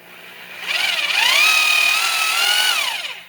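A Bosch SDS rotary hammer runs in drill-only mode for a short burst, giving a smooth, fairly loud whine that climbs in pitch, holds steady, then falls away as the motor winds down.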